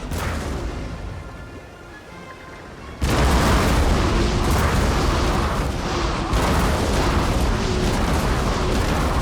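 Deep booming cannon blasts from warships in the video game Napoleon: Total War erupt one after another, loud and rumbling, following a quieter stretch of background noise.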